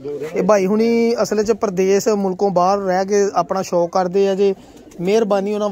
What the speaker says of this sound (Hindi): ऐ देखो जी कबूतर वाह ऐ जी कबूतर माशाला